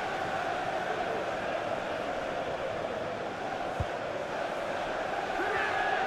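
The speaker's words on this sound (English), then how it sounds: "The crowd encouraging him to take it on" A stadium crowd in the EA FC24 football game, Chelsea vs Manchester United, roars in a dense, steady wall of cheering and chanting that fills the whole stretch, with a commentator speaking over it.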